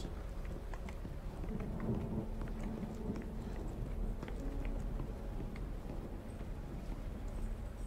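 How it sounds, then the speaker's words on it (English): Rain and thunder in the horror video game The Medium: a steady, dense patter of rainfall with low rumbling underneath, continuous and even throughout, no voices. "Why does it always rain in these freaking horror films?"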